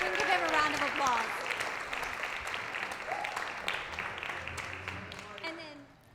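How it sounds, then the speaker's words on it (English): A meeting crowd gives a round of applause for Don Heffines as he arrives, steady broadband clapping that runs throughout and fades toward the end, with some voices and tonal sounds mixed in. "so we can give him a round of applause."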